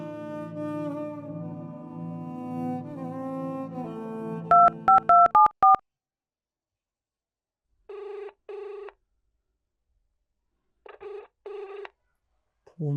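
A phone call rings out unanswered, with repeated double-burst ringback tones separated by silence, following music and a rapid sequence of dialing beeps.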